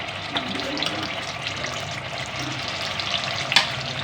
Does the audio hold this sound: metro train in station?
no